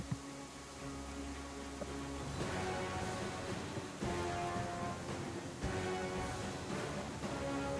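Steady rain hisses across a surface, with a soft low rumble building partway through and brief crackling bursts, a continuous quiet wash with no voices.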